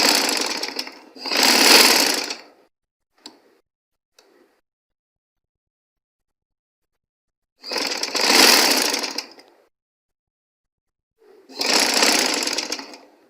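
A sewing machine stitches fabric for a girls' dress in three loud, close bursts of rapid mechanical whirring, the second and third after long silent pauses, with a few faint ticks between.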